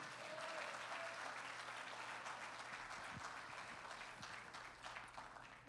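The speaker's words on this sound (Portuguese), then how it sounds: "Você pode aplaudir ao Senhor por isso?" A church congregation applauds during a Portuguese-language worship service, a steady, fairly faint wash of clapping across the whole stretch with a few louder claps near the end.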